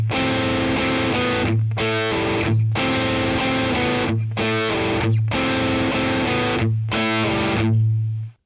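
Distorted electric guitar plays a riff, a chugging palm-muted low-note pulse broken by repeated chord stabs. The loop comes around four times, loud and upfront with no voice.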